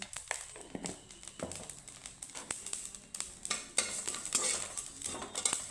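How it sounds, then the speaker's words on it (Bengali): Panch phoron spices frying in a kadai, with repeated close metal spoon scrapes and stirring clinks over a faint sizzle, steady and busy throughout. "একটা চামচ আরও হাফটা চামচ আমি পাঁচ ফোড়ন ভেজে নেব"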